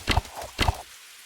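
Rain of Arrows attack from a tabletop-styled roguelike RPG: two loud, sharp impact bursts about half a second apart, each a quick thumping volley, then a brief fading tail into quiet.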